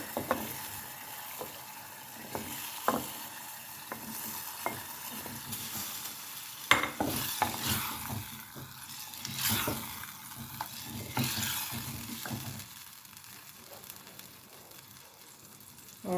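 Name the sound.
washed, cut potatoes being added to pan and frying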